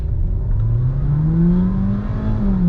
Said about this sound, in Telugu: ఫుల్ వాళ్ళు 6500 వరకు రేవ్ అవ్వడానికి దానికి అవకాశం ఇచ్చారనమాట. ఇప్పుడు మీరు చూస్తారు.